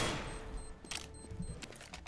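An AK rifle in Counter-Strike: Global Offensive fires a rapid burst of sharp gunshots. An early loud report fades and is followed by several quicker cracks, with no talk over them.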